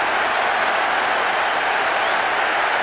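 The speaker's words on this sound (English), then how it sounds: "The capacity crowd are enjoying the goal celebration" Football stadium capacity crowd roaring and applauding after a goal, a dense, continuous wash of cheering and clapping at steady high loudness.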